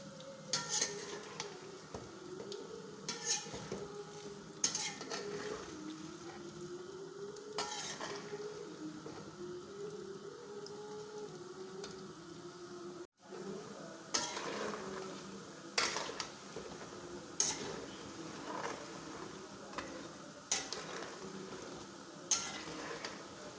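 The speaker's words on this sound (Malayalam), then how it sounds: "ചീനിച്ചട്ടി അടുപ്പിൽ വെച്ച് വെളിച്ചെണ്ണ ഒഴിച്ച് വറുത്തെടുക്കാം" Small rolled cheeda balls fry in hot coconut oil in a pan, an Onam snack. A faint, steady sizzle runs throughout, broken by occasional light clinks of a utensil against the pan, and no one speaks.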